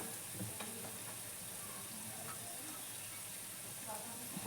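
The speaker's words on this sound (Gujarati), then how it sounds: "ત્યાર પછી એને થોડું પાછું ફ્રાય કરી લઈએ આપણે." Dried fish fries in a pan for a chutney, a faint, even sizzle with soft scattered crackles heard quietly from nearby.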